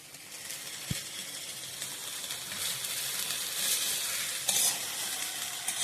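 Leafy greens (saag) cook in a hot pan for lunch, giving a steady, close sizzle and hiss with a single dull knock near the start and occasional stirring scrapes.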